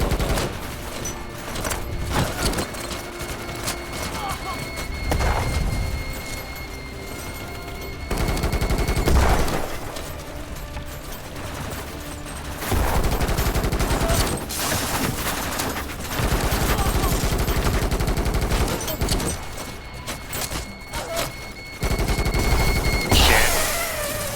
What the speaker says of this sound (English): That is a fucking sniper rifle